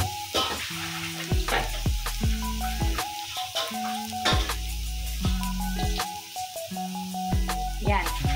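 Garlic dropped into hot oil and butter sizzles in a pan while a spatula scrapes and stirs repeatedly, with close, irregular clacks over a steady frying hiss.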